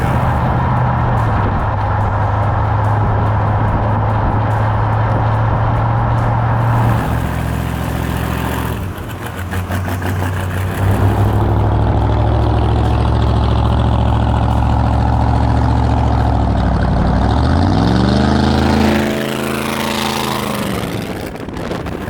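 Supercharged big-block Chevy engine in a right-hand-drive Chevy C10 truck, a loud lumpy idle that blips and revs, dips, then climbs in a sweeping rev near the end, heard close and continuous.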